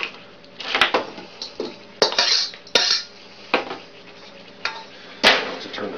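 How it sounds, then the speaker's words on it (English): Onions tossed into a pan for spaghetti sauce with a metal utensil, a series of sharp clanks and scrapes against the cookware at irregular intervals, close and fairly loud, with no voices. "I'm gonna toss my remaining onions in from earlier here"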